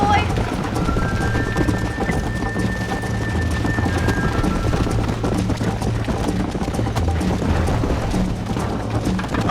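Galloping hooves of a horse in the Red Dead Redemption video game, a steady rapid beat buried in a dense, loud game mix with rumbling ambience, and a brief whistle-like tone near the start.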